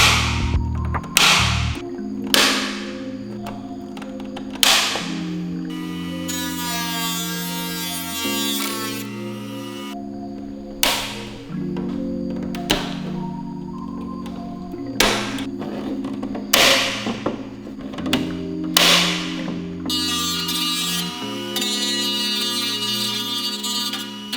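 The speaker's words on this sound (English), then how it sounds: "I need to trim back any excess plastic inside the case" A power tool trims excess plastic inside an Xbox Series X case, buzzing in repeated loud bursts that start with sharp attacks and pause between cuts, close and continuous over a long stretch.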